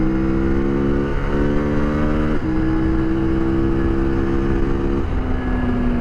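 A 2023 CFMOTO Ibex 800 T motorcycle being ridden on 50/50 tires, its engine droning loudly and close with distinct steps in pitch as it shifts gears.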